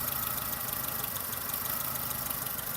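A Chevrolet Lacetti engine idles after its engine bay was washed, a steady low rumble with a faint rhythmic knock, close and continuous with no voices.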